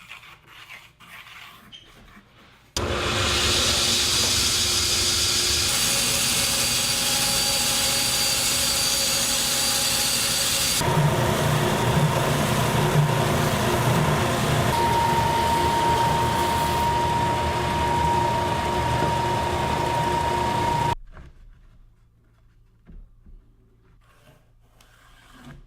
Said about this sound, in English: I'm going to cut this one on the bandsaw